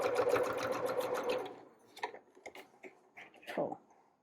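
A sewing machine runs a quick steady stitch along cami binding, then stops into a few short backstitch bursts and soft clicks, close and fairly quiet.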